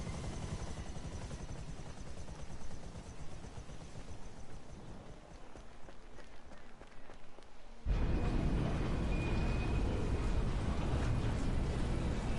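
A video game helicopter thrums with a steady rotor drone, shifting to a louder, fuller roar partway through as it sets down in the arena, continuous and close with no talk.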